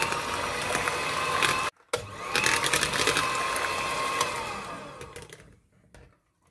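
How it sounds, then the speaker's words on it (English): A blender whirs steadily while mashing bananas for banana cake batter, holding a loud motor drone that drops out briefly, restarts, and then winds down to quiet near the end. "I'm just gonna smash the bananas more using this blender"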